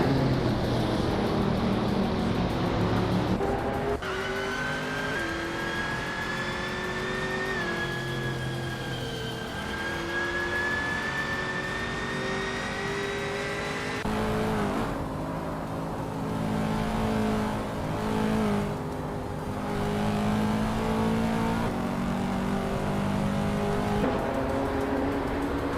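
A Panoz Esperante GTLM race car in a racing video game, its engine whining loud and close, climbing in pitch through gear changes, with other cars' engines layered around it over roughly 26 seconds, no talk.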